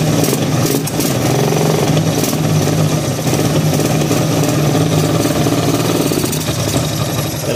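Engine idling in a garage, a loud, steady, rough rumble with slight uneven pulsing, close by and continuous with no talking.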